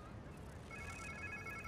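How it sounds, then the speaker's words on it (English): Phone ringtone in Marvel's Spider-Man 2, a steady repeating electronic ring that starts partway through and continues at moderate level over a low game ambience. "Sounds like somebody's phone."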